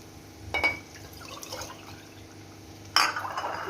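Glasses of water are poured into a pot of potato curry, giving two short splashing pours with soft liquid sloshing and clinks between them, close and fairly quiet.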